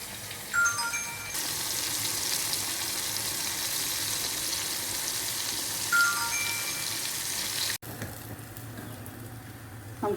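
Dried mackerel frying in hot oil in a pan, a steady broad hiss that runs continuously for most of the clip, then drops abruptly near the end before resuming more quietly.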